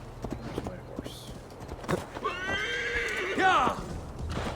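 A horse in the video game Assassin's Creed Valhalla gives a clear, fairly close whinny with a falling, wavering pitch, preceded by a few soft hoof clops and quiet game ambience.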